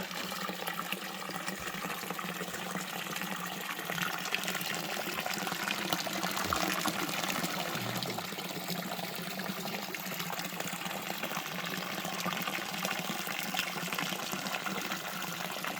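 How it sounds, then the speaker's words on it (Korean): Meltwater gushes from a thawed, burst water channel in March snow, a steady broadband rushing that stays loud and close without pause or voices. "해동하니까 물길이 터져가지고 얼었던 물이 괄괄괄괄괄 이렇게 24시간 막 뿜어져 나옵니다"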